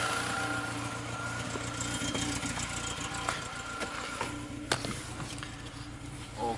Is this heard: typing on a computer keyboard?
no